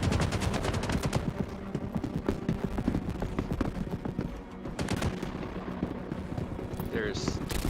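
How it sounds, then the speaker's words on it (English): Star Citizen gunfire crackles in rapid, continuous volleys of sharp shots, dense and loud throughout with a brief lull midway, while a player talks over the shooting. "There's so many bullets flying."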